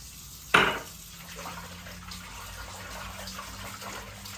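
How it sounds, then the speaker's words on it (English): A brief splash as water and apple cider vinegar are poured over chicken and beef bones in a kitchen, followed by quiet trickling and faint liquid movement with no voices. "I'm just gonna rinse this with apple cider vinegar"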